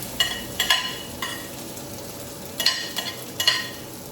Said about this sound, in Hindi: आलू भी डाल दिया है क्योंकि मठा आलू बन रहा है